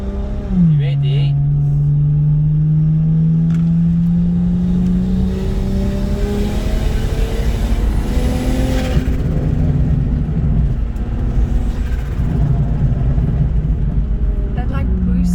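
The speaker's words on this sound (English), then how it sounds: "That like boost build up sounds like a jet engine or something." Single-turbo BMW 335i accelerating hard: a rising engine note climbs through the gears with a whooshing turbo boost build-up, loud and close from inside the car, while people talk over parts of it.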